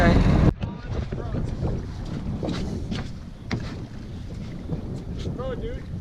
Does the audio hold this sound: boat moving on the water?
yes